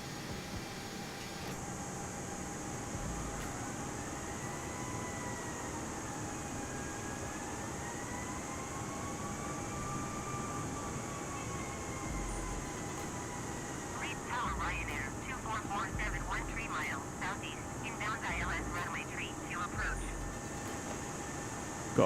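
An A32NX airliner taxis in Microsoft Flight Simulator at the Faroe Islands, giving a faint, steady engine whine with slowly wavering tones and a patch of light clattering near the end.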